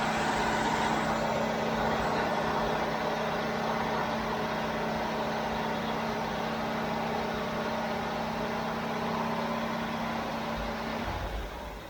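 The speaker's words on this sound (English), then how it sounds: "Let's let it come down off high idle." A Jeep CJ-7 engine settling down from high idle, a steady loud running drone with a constant hum that holds for about eleven seconds before the pitch drops and the sound eases off at the end.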